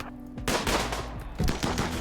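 Gunshots in a video game inside a dining room: two loud bursts of gunfire, one near the start and another about a second later, each with a sharp crack and a crashing, smashing tail.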